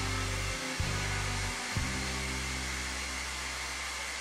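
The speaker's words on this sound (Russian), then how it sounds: "Пылесос." Small vacuum cleaner from a Fix Price budget-store haul, running steadily with a constant motor whine and airflow hiss; its pitch dips briefly twice near the start, then holds. No talking.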